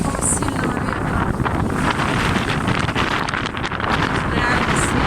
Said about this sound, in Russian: Пошла в море с парусом, не бояться такого сильного ветра.